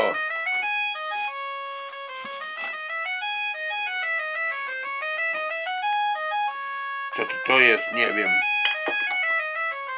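A mobile phone ringtone plays a stepped electronic melody of repeated tones throughout, with people speaking over it in short bursts near the middle and end.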